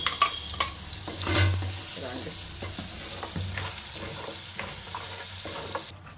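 Green chillies and curry leaves fry in an onion-tomato puree for a stuffed brinjal curry, giving a steady close sizzle with stirring and spoon scrapes throughout, no talk.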